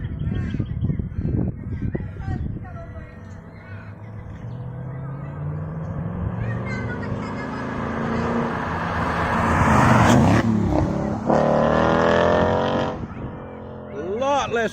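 A Ford Mustang GT with Roush performance mufflers and the factory H-pipe resonator drives past, its exhaust note building to a loud peak near the middle and then fading, with people talking over it at the start and the end.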